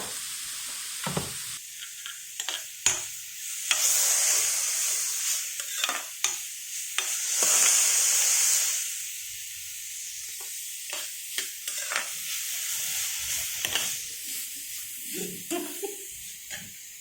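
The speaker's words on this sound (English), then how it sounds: "Fry till the tomatoes are soft." Tomatoes frying in a pan for chicken cutlets, a steady close sizzle and hiss with scraping stir strokes and scattered clinks throughout, louder bursts of spitting around the middle, no talking.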